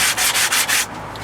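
A gentle hand-sanding of pallet wood boards being cleaned up for seedling trays: about five steady, rhythmic rasping strokes, close and fairly loud, then quiet, with no voices.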